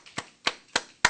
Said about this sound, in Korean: 하나님 앞에 감사의 박수를 드립니다